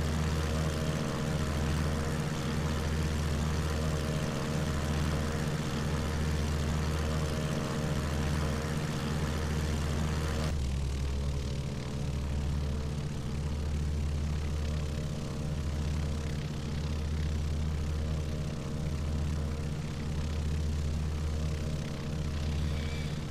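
An airplane taxis across a ramp, its engine a steady loud low drone with a pulsing throb that shifts in pitch partway through and then carries on evenly.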